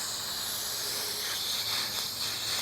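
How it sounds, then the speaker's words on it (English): Steady broad hiss of a garden hose spraying water over a pond pump filter, a continuous close rushing spray with slight surges. "I just sprayed it out with the garden hose"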